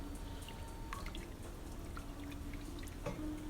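Water poured into a thick, syrupy beer-brewing mixture from a can of extract, a steady low wash with scattered drips and small splashes, continuous and close throughout.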